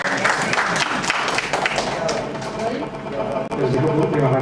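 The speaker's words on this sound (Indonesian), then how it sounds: "tepuk tangan untuk Pak Budi." Villagers at a community development planning meeting on Pulau Tidung applaud in a busy burst, which soon gives way to people talking over the tail of the clapping.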